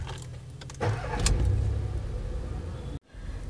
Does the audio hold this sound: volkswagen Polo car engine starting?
yes